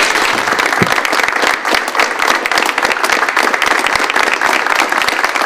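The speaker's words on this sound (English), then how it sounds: "But let's join Chief Bobby Williams in a round of applause for 20 years of service." An audience at a fire department service award ceremony gives loud, sustained applause for twenty years of service, dense and continuous with crisp individual claps throughout.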